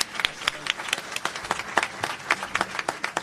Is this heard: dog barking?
no